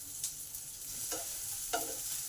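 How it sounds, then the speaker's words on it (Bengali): Onion added to a pan of garlic already fried golden, cooking over low-to-medium heat with salt; a steady soft sizzle runs throughout, broken by two or three brief scraping stirs, with no voices. "পেঁয়াজটাকে লাল লাল করে ভাজা করে নিতে হবে"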